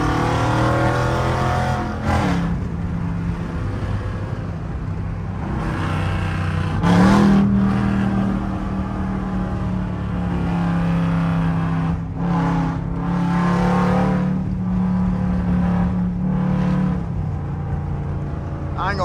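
A Jeep Summit with a 5.7 engine and deleted catalytic converter rumbles loudly from inside the cabin while driving, a deep continuous exhaust drone that swells with acceleration, as someone talks over it throughout.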